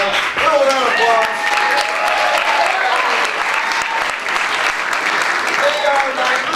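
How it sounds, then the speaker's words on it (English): An improv festival audience gives a warm round of applause for two stage assistants, steady clapping mixed with scattered cheers and voices. "Little round of applause."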